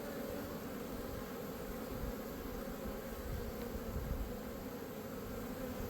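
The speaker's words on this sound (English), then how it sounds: "the bees seem to be really working it hard" Honeybees buzz steadily in a California almond orchard during pollination, a dense, continuous swarm drone that holds at an even level throughout with no voices.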